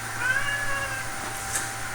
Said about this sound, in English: Yes, he is a very large cat.